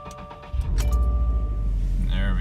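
A 2018 Subaru STI with a freshly flashed ECU cranks and fires about half a second in, then settles into a steady, loud idle rumble, with a brief whine and light clinks over it.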